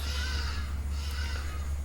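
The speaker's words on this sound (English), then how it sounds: "The birds make a lot of noise." Birds calling outdoors beside a Ford Fairlane 500 muscle car being sealed, a dense, constant chorus of caws and chatter over a strong low hum, with no talk.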